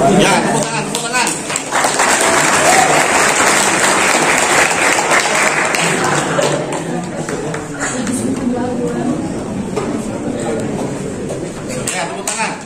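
Sustained audience applause fills a hall during a faculty orientation event, loud and dense for most of the stretch, with crowd chatter and voices mixed in as the clapping thins toward the end.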